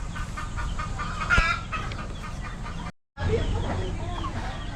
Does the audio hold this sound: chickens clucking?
yes